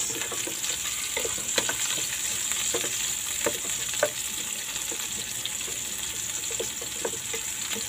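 Kangkong adobo with shrimp frying in a pan, a steady dense sizzle with light stirring scrapes throughout, close and continuous with no talking.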